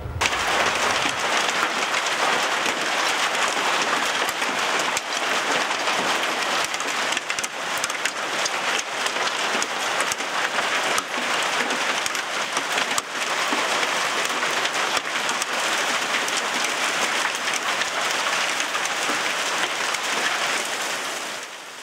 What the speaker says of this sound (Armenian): Այսօր ուժեղ կարկուտ է տեղացել Լոռու մարզում։